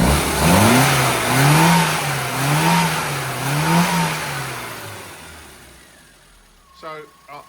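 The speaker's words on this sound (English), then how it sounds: "give it a rev." A car engine revs up and down in several rising and falling bursts, loud and close, then drops away as a short bit of speech comes in.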